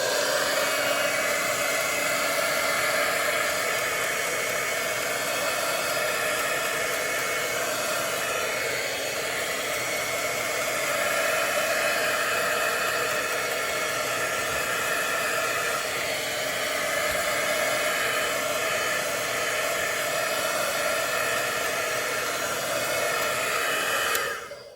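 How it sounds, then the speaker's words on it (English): A heat tool dries a double embossed layered floral card, its fan blowing a continuous, even hair-dryer-like whoosh close by for the whole stretch, with only slight shifts in tone. "I'm going to go ahead and hit it with a heat tool"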